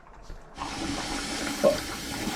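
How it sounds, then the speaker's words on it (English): Cold tap water gushing into a kitchen sink to rinse freshly boiled macaroni, starting abruptly after a brief quiet moment and running steadily and close, with a bright splashing hiss and no talking. "We'll run it under cold water."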